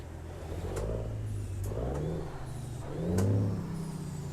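Freightliner FLB truck in American Truck Simulator, fitted with an N14 engine, its mid-pitched motor rumbling and revving in repeated rising swells, loud and close, with no talk.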